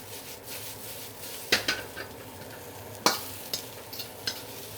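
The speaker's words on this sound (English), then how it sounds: "Leave it still to get the sear, toss it to get the Wok Hei." Baby bok choy stir-frying with garlic in a hot wok, a faint steady sizzle broken by several sharp metallic clatters as the wok is tossed, with no voices.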